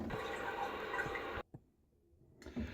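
Tap water runs loud and steady for a final rinse during a wet shave. It cuts off abruptly, leaving near-quiet with faint drips and taps before the flow briefly resumes.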